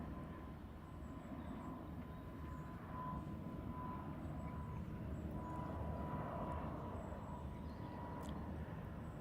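A Lufthansa airliner departs Heathrow's runway 09R as a steady, broad engine roar that holds evenly throughout, fairly distant with a faint whine riding above it.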